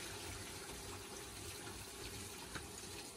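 Water from a flushing toilet rushing through a drain heat recovery pipe in an all-electric passive house mechanical room, a steady, close, continuous gushing flow with no talk.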